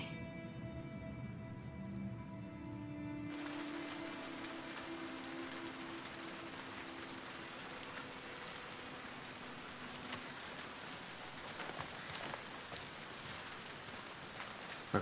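Steady rain pours down in The Last of Us Part II, a dense even hiss that starts abruptly after a low musical hum and continues without pause, close and uniform with no talking.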